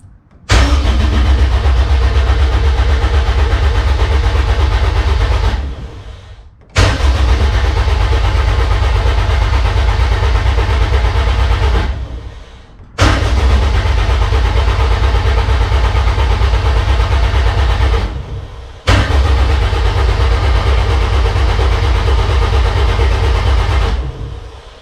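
Honda K20 engine in a DC2 Integra race car cranking over on the starter to prime oil pressure, four loud sustained bursts of about five to six seconds each, separated by brief pauses, close and steady without firing.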